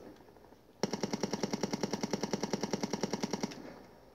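Rapid automatic gunfire from Call of Duty Mobile: a steady burst of about twenty-five evenly spaced loud shots over nearly three seconds, starting abruptly and stopping cleanly, heard alone.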